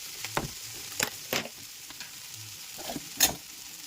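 Onions sauté and sizzle in a pan as masala powder is stirred in, with a soft steady frying hiss under repeated scraping stirs of a spoon against the pan, close and fairly loud.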